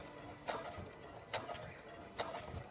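A sewing machine runs at a very slow speed while stitching a straight seam on a fabric USB-drive case, giving three soft, evenly spaced mechanical clunks under a quiet background.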